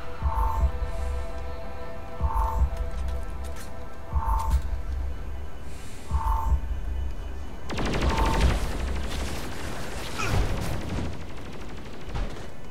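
Shotgun and gunfire in Saints Row IV: steady pulsing tones give way to a loud, dense burst of rapid shots and blasts in the last few seconds, close and continuous.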